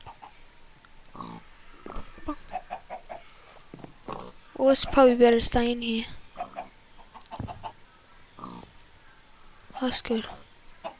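Clucking from a chicken in the Minecraft Block Hunt minigame, a short burst of bird calls in the middle while people talk casually over game sounds throughout.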